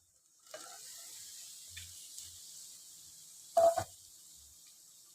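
Chopped beetroot sizzles in a frying pan, a steady low hiss throughout broken by brief clatters of stirring and a louder scrape of the utensil partway through.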